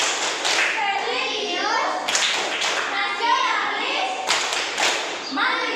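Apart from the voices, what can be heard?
children doing the rhythmic "tepuk PPK" clapping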